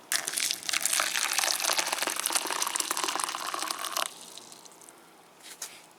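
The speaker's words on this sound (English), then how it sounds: "Just a few calcium nitrate crystals in there. Just put some hot water in." Hot water poured onto a few calcium nitrate crystals in a container, a loud close splashing and fizzing rush that runs steadily for about four seconds, then stops abruptly, leaving faint handling noises.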